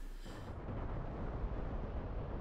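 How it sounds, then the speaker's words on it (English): Bombs explode on an airfield runway in the DCS World combat flight simulator, a deep rumbling blast that rolls on as a sustained low roar without a distinct sharp crack. "So all the bombs are going in. Should see explosions on the runway anytime soon."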